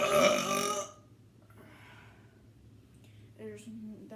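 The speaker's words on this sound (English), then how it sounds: "my stomach is filled to the brim with burps" A loud burp after eating fish, long and strained, fading into quiet breathing before a short voiced sound near the end.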